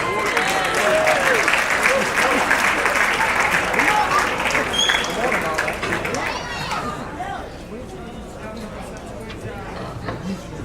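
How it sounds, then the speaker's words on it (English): Audience applause at a live poetry and music event, a dense crowd clapping steadily and loudly for several seconds before thinning slightly toward the end, with murmured chatter mixed in. "Let's give them a big round of applause."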